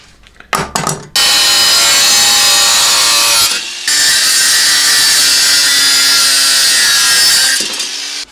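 An old, badly rusted steel shovel is cut up with a power tool: a few short bites, then a long, loud, continuous grinding cut that dips once briefly before carrying on.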